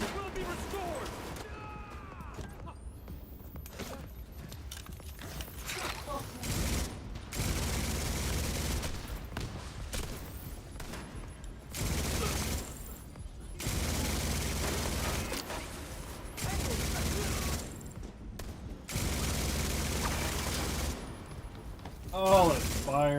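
Bursts of automatic gunfire and explosions from The Division 2 shooter game, repeated volleys of fusillade with brief gaps, loud and close, with a player talking over parts of it.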